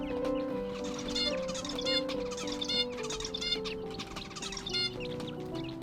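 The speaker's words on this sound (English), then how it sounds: "my quails. I'm not even sure what they're picking at every day in the aviary" Quails busy in an aviary give repeated soft chirps and clucking calls over a steady background hum, close by with no talking.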